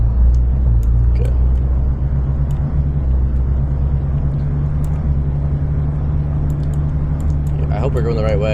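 A car engine rumbles steadily from inside the cabin while being driven, with a continuous low drone throughout and occasional small rattles and clicks; voices come in near the end.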